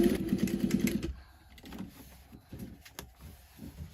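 A sewing machine stitches a pocket onto tote bag fabric, a close, steady mechanical run of stitching that stops after about a second, followed by quieter handling clicks and rustles.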